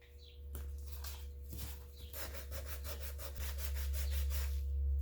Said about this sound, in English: I'll just make sure I hit that with the sandpaper again